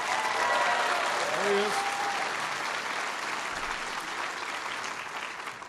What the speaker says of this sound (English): Give your president a big round of applause